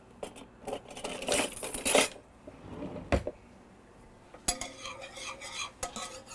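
A whisk scrapes and clatters against a pot while mixing cocoa into a dessert base, with bursts of rapid metallic stirring broken by brief pauses and a few sharp clinks, close and moderately loud.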